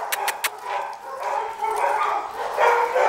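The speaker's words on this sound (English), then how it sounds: "All the dogs are barking." Several dogs bark outdoors. A few sharp, close barks open, followed by more distant, overlapping barking and yipping that carries on steadily.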